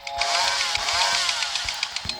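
Chainsaw wielded by the chainsaw killer in a video game, a steady high-pitched buzzing snarl that runs continuously and loudly, with small rhythmic surges in the revving.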